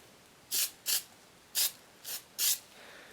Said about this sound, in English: Do our test spray, make sure it's spraying